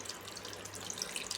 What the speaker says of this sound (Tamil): 1 கிளாஸ் தண்ணி ஊற்றிக்கோங்க.